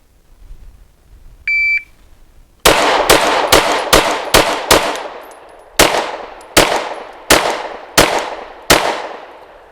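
Sharp, loud pistol shots come from a Kimber Carbon Compact during a timed shooting drill. A shot-timer beep starts it, then a quick string of about eleven close, echoing reports comes in rapid bursts with brief pauses between them.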